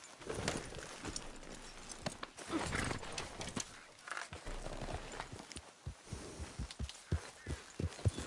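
A horse in a PS4 video game neighs and its hooves clop in a steady walking rhythm, with scattered louder hoof strikes and a rider's movement over a busy mid-level background.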